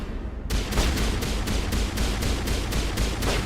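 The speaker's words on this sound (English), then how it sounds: "She was just shooting at the wall." Rapid, evenly spaced gunshots from Liara's weapon in Mass Effect crack out in a sustained burst of about a dozen rounds, loud and close over busy combat noise.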